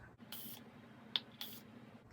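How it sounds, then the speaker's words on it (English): Two quick, soft hisses of a makeup setting spray pump sprayed into its cap, a brief tap between them, quiet and close in an otherwise still room. "Setting spray, spray in the cap."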